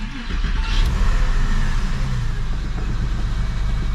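A Porsche 911 996 engine cranks and catches, then settles into a steady, rumbling idle close by, with a low throaty drone throughout.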